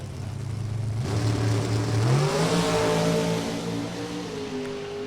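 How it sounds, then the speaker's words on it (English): A loud NHRA drag racing car engine revs hard, its pitch climbing steadily as it accelerates, then holding a high, roaring note. "That was a loud car."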